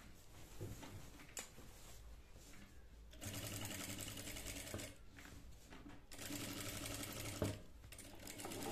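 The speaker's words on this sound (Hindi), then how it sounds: "और अब कैनवास के किनारे किनारे सिलाई लगानी है फ्रेंड, कैनवास के साइड साइड में सिलाई को लगा देना है।" A sewing machine runs steadily while stitching along the edge of canvas for a gota patti neck design, its rapid mechanical rattle continuous and close, pausing briefly a couple of times before resuming.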